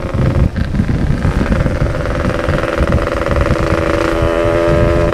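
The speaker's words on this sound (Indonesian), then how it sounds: "gua pakai knalpot setengah dewa" Yamaha RX-King motorcycle fitted with a Setengah Dewa aftermarket exhaust, a loud, close, steady engine rumble with a throbbing low idle-like beat running throughout, no talk.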